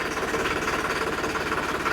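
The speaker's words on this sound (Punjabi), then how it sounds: "ਰੇਖਾ ਰੇਖਾ ਹੋਰ ਦਿਓ ਰੇਸ ਦੁਬਾਰੇ" Close, loud diesel engine of a used tractor with 898 hours chugging with a rapid knocking rhythm, rising as it revs steadily over two seconds.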